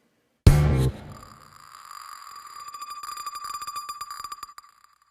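A sharp sound hits first, then a ringing tone trails off with rapid rhythmic repeats of a panning delay effect that pulse and fade over several seconds.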